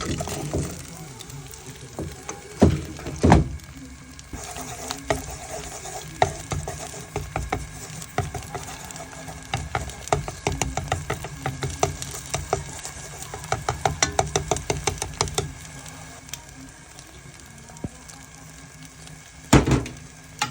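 A Japanese-style omelette with egg, ham and cheese cooks in a round frying pan; utensils scrape and tap irregularly over a low sizzle, with a few sharp knocks near the start and end.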